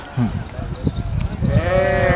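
Sheep in a grazing pasture, with a near, clear bleat rising toward the end over a murmur of people speaking.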